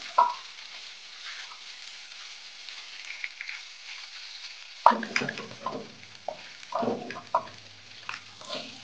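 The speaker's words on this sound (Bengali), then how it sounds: "চুলার আঁচটা বাড়িয়ে অবশ্যই ফ্রাই করবেন।" Beef frying over high heat in a pan with a soft sizzle, then clattering stirring and scraping strokes at close range after a sharp knock.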